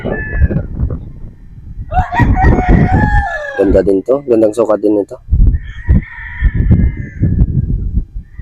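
A gamefowl rooster at a game farm crows loudly and close by, one long cock-a-doodle-doo answered by further crowing, while someone talks over it.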